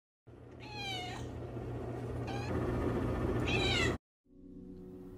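A cat meows three times in drawn-out, rising cries over a steady low hum, then the sound cuts off abruptly before a quieter background returns.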